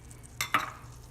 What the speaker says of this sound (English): I'm going to add my cream, and that's also going to sizzle a little bit.